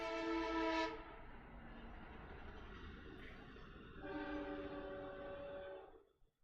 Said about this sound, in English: you're supposed to fill the air when the train goes past